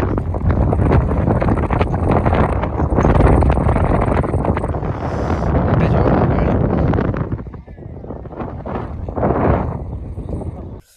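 Strong wind gusts roar over the microphone on the hilltop at Mullayanagiri, loud and continuous for most of the stretch before easing briefly and rising again.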